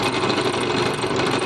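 A power drill bores a hole through a piece of wood for a simple wooden puzzle, a steady close buzzing whir that holds unbroken throughout.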